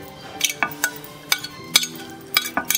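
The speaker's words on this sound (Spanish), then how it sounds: "Vamos a empezar a mezclar tomate, cebolla." Ceviche of chopped tomato, onion and mackerel fillet is mixed in a bowl, giving a series of sharp, close clinks and wet scraping stirs in an irregular rhythm, with no talking.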